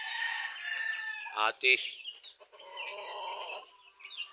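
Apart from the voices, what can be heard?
chickens clucking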